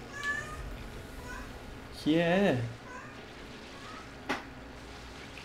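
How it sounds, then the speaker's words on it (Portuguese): A pet cat named Jujuba gives one clear, drawn-out meow in the middle, close by over a quiet room, with brief speech before it and a short sound after. "Gato tá pedindo comida."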